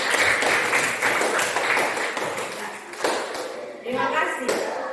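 Applause for class 7A at a school: a burst of clapping from a group, dense and fairly loud, dipping briefly before a final stretch, with some voices mixed in.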